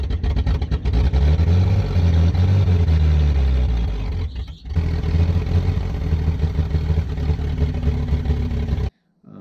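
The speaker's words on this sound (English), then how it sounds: "But we did finally get the engine to run, turn over." Steady, loud running of a backhoe engine during break-in after its repair, a continuous low rumble with mechanical clatter that dips briefly midway and cuts off just before the end.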